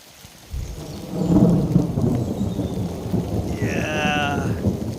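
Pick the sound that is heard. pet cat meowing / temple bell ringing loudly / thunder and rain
thunder and rain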